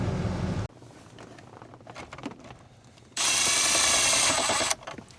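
A power tool drives screws into a replacement HVAC control unit in a Chevrolet Silverado dashboard, with a brief whir at the start, quiet handling noises, then a longer, loud, close drilling whine lasting over a second.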